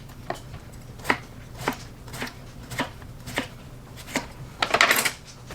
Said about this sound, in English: all I'm doing here is just slicing into a nice thin slice here